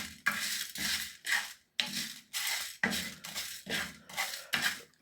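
Liver with black pepper fries slowly in a pan while a utensil scrapes and stirs it in about nine even, rhythmic strokes, each a short gritty swish close up.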